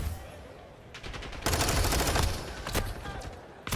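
Gunfire from a Call of Duty tournament match bursts out in loud, rapid automatic volleys after a few isolated shots, the bursts overlapping densely and then thinning, with faint voices beneath.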